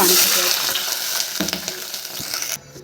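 Water is poured into hot oil with whole spices such as clove, cinnamon, star anise and bay leaf, giving a loud, hissing sizzle that fades toward the end, with a few clinks of utensils.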